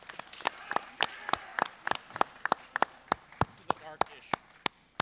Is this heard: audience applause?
yes